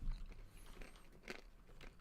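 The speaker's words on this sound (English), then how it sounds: "Sorry for all the chewing sounds." Close, crunchy chewing of almonds, with irregular bites and crackles of the hard nuts being munched, quiet and intimate.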